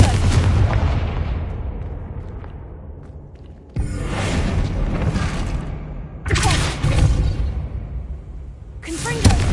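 The Confringo fire-blast spell in Hogwarts Legacy goes off three times as loud, roaring explosive blasts, each a sudden broadband burst that rumbles and decays over a couple of seconds, with a fourth blast starting at the very end.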